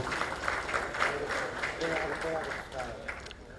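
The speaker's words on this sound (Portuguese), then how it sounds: "Palmas" A room at a Masonic gathering breaks into applause for a guest, a dense spread of clapping that stays fairly steady and moderately distant, with voices talking over it.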